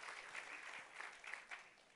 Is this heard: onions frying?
no